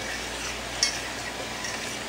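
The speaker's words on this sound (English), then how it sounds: "it's starting to sizzle a bit and pop and make all kinds of wonderful little noises" Quiet, steady sizzling of chile and garlic frying in hot oil, with a faint clink partway through.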